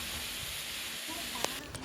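Coconut cream simmering in a hot pan for Thai green chicken curry gives a steady, close sizzling hiss throughout, with a brief sharper crackle near the end.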